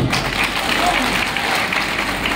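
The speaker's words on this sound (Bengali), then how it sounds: "আশরাফের জন্য আমরা সবাই একটা করতালি দিই।" A crowd at an open-air political prayer gathering claps for an arriving procession, a dense, steady wash of applause mixed with crowd noise and voices.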